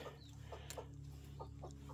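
Chicks about two weeks old peep and cluck softly in short scattered bursts, faint and close, over a steady low electrical hum.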